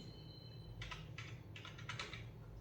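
Keys clatter on a slightly troublesome computer keyboard in quick, faint bursts of typing, with short pauses between clusters of keystrokes and no talking.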